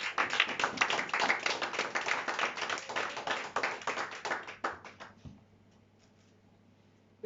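A church congregation claps to acclaim the Lord during a French sermon, a lively, fairly close burst of rhythmic hand claps that stops abruptly, leaving near silence with a faint hum.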